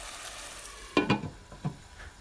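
Chopped onion, garlic, ginger and salt frying together in a pan, a quiet sizzle with a few brief stirring scrapes near the end, no voices.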